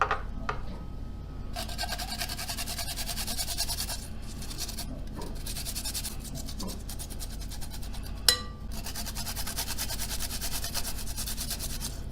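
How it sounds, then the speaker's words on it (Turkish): Two garlic cloves are grated over cooled black-eyed peas, a steady close rasping scrape that runs continuously with brief gaps and small clinks, with no talking. "Şimdi üzerine şöyle 2 diş sarımsak rendeleyeceğim."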